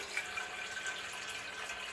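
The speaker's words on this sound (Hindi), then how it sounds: "स्टैंड रखने के बाद इसमें मैं पानी डाल दूंगी।" Water pours steadily into a steaming pot fitted with a stand, for a chicken mandi rice recipe, making a continuous close splashing rush that holds at an even level with no talk.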